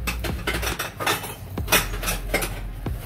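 A spoon scrapes and clinks as sugar goes into a glass of malai, several sharp metallic taps and scoops spaced irregularly, close and fairly clear.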